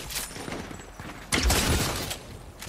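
Gunfire in the battle royale game Fortnite, a rapid burst of shots that swells loud in the middle, close and harsh, with no talking over it.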